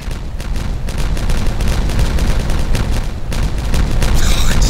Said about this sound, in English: Yes, we are going to dynamite this down.